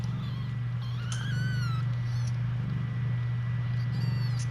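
Kittens mewing in short high, rising calls, several meows close by over a steady low hum, with faint background noise.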